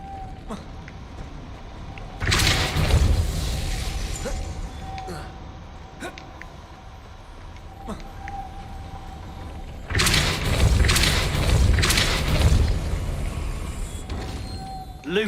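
A Depulso spell blast in the Hogwarts Legacy video game, with two loud broadband whooshing bursts around 2 and 10 seconds, each decaying over a few seconds, over a steady tonal hum.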